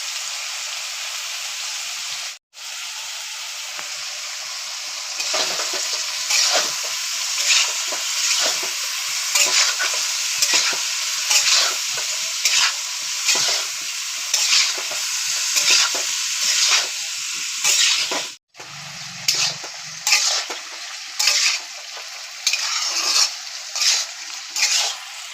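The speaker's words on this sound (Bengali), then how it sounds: "এঁচোড় ভালো করে ভাজা হয়ে গেছে" Raw jackfruit frying in oil with turmeric in a pan, a steady close sizzle broken by regular scraping stir strokes, continuing for most of the clip with two brief drops to silence and no speech.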